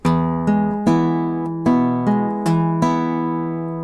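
Fingerpicked guitar plays pattern number 3, a bouncy repeating pattern of plucked chords and bass notes, each attack ringing and decaying, close and alone.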